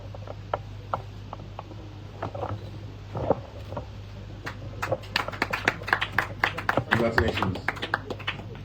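Scattered claps from an audience at a business school graduation ceremony start sparse and build into a fuller round of applause, with a steady low hum beneath and a voice talking over it.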